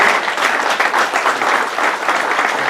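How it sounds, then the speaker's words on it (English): A meetup audience at a real estate investors' gathering gives a loud, continuous round of applause, dense and even throughout, with faint crowd murmur underneath. "Everybody give this guy a big round of applause."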